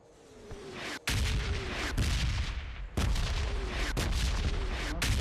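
Airstrike explosions in PUBG Mobile hit as a series of heavy, booming blasts at irregular intervals. Each sharp crack is followed by a rumbling tail, loud and fairly close, with no talking.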